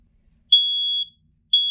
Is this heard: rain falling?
no